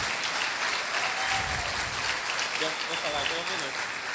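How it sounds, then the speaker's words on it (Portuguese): Audience applause fills a hall at a health caravan event in Malawi, a steady, dense wash of clapping from many hands that holds at an even level throughout, with no voices on top. "Eu pediria a todos uma salva de palmas."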